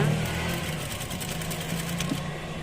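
Sewing machine running a lock stitch on saree fabric, a steady, fast mechanical whirring and clatter with a low motor hum, close by and continuous throughout.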